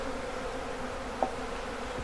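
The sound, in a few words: honey bees of a swarm buzzing at the hive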